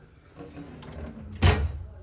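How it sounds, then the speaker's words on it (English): Kitchen drawer in a new home opened and closed, not soft close: soft sliding rustles build, then one sharp loud bang as it shuts near the mic, with no talk. "let's get into some of these drawers"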